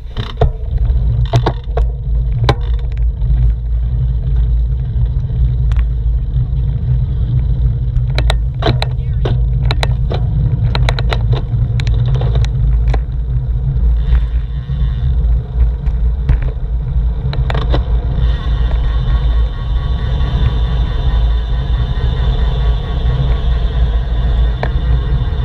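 Car descending the winding road down Mount Diablo through the South Gate, a steady low engine and road rumble throughout, with scattered sharp clicks and ticks from inside the cabin.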